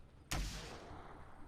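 A single loud gunshot goes off in an ArmA battle, a sharp crack followed by a rolling echo that fades away.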